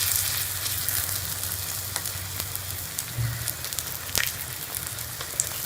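Egg omelette paratha fries on a pan over medium heat, giving a steady close sizzle and crackle with a few faint scrapes and clicks. Nobody speaks.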